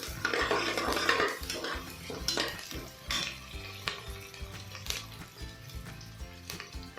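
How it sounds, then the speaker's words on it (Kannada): Soaked dried peas stir-fried in a pan, with a spoon scraping and clinking against the metal in irregular strokes over a faint sizzle. "ನಾನು ಒಣಗಿರೋ ಬಟಾಣಿನ ರಾತ್ರಿ ನೆನೆಸಿಟ್ಕೊಂಡು ಹಾಕ್ಕೊಳ್ತಾ ಇದ್ದೀನಿ ಚೆನ್ನಾಗಿ ಫ್ರೈ ಮಾಡ್ಕೊಳ್ಳಿ"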